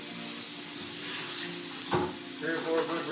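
Water splashes and runs while a plastic homebrew beer bottling bucket is rinsed of sanitizer, a steady wash of spray with a few louder sloshes near the end, recorded close up.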